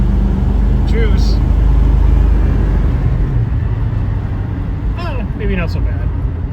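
A 1965 Ford Mustang convertible engine rumbles loud and steady as the throttle opens, a continuous low drone filling the whole stretch, with faint chirpy squeaks briefly cutting in near the start and again toward the end.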